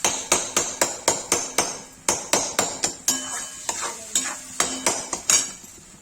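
Tomatoes frying in a pan for a Kashmiri spinach and lotus stem dish, with a spoon striking and scraping the pan in a steady run of sharp, close knocks over a soft sizzle.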